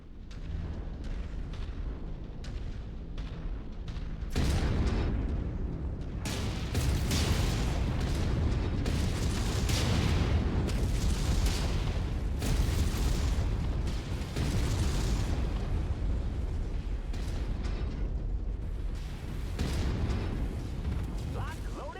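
Mech weapons firing in MechWarrior 5, heard as a dense stream of booming blasts and explosive bursts over a continuous rumbling game soundscape, with voices talking over the combat.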